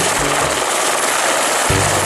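Helicopter rotor and engine noise, a loud continuous whirring roar that fills the short stretch with no talking.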